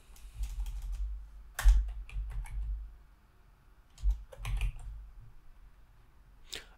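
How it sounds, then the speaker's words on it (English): Typing on a computer keyboard while searching in a cloud console, quiet clustered key clicks in short bursts separated by pauses, close and soft, with no voices. "in the search box, you need to type Lambda."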